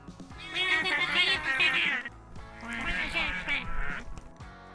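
Two drawn-out cat meows from the mobile game Talking Birds on a Wire, each about two seconds, loud and close with a cartoonish, warbling quality.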